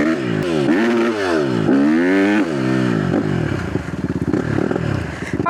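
A dirt bike engine revs hard and close on a dirt track, rising and falling through several throttle blips, then settling into a rougher, sputtering idle.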